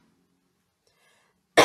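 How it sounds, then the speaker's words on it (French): A single short, sharp cough bursts out near the end after near silence, close and fairly loud. "Je tousse."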